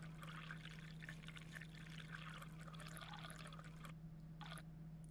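Water, 200 ml of it, poured into pizza dough in a video game, a steady trickling stream running for several seconds over a low constant hum, then cutting off near the end with a brief final splash.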